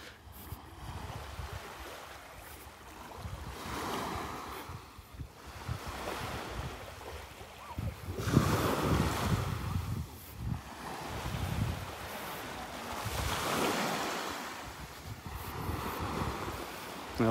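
Waves at Delnor-Wiggins Pass State Park beach roll in and break in slow surges every few seconds, a soft, rhythmic wash mixed with light wind buffeting.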